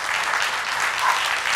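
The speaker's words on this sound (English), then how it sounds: "Please give my panel a big round of applause" A steady wash of clapping from an audience applauding a panel at the end of a Mars support discussion, continuous and fairly loud for the whole short moment.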